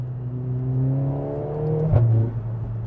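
A 2022 Mercedes-AMG GLA 45 in Sport Plus mode pulls hard with close, loud engine revs climbing steadily, then a crisp, near-instant paddle shift drops the pitch before it builds again.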